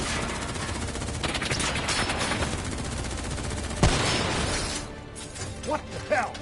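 Gunfire in the shooter Call of Duty, rapid automatic bursts rattling loudly for several seconds, then one heavy crack, after which the shooting drops to scattered shots and debris.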